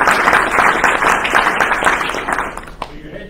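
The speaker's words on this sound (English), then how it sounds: "Let's give our speakers a round of applause." Sustained audience applause for the speakers at a land forum morning session, a dense, steady wash of clapping that fades out near the end, with a voice heard over it.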